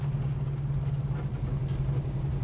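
Exhaust note of an idling Holden HK car, a steady low throbbing rumble heard close up, unbroken and even for the whole stretch with no talking.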